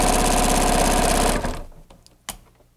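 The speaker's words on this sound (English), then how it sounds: "We're going to sew around here to the corner, and then we'll show how to go around it." Sewing machine stitching binding on a Minkee quilt, a fast steady mechanical whir for about a second and a half, then stopping, followed by a few faint clicks and one brief knock.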